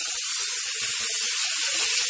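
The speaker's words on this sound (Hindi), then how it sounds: "इसे अच्छे से फ्राई करेंगे।" Chopped tomatoes and green chilies frying in a pan for vegetable Maggi, a steady broadband sizzle running continuously with small pops and spatters throughout, close and even, with no talking.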